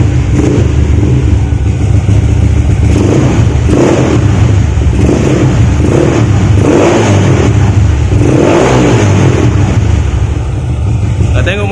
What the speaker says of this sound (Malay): Masih lagi senyap guys enjin aku.